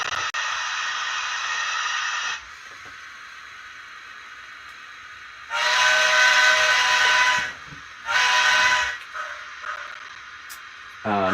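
Steam whistle from an old sound decoder in a model Mogul locomotive, a bright hissing whistle heard in several blasts of varying length separated by quieter steam hiss and chuffing.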